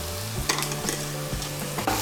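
Masala soybean being stirred with salt in a pan, close scraping strokes of a spoon in a steady rhythm over a soft background sizzle, no voices.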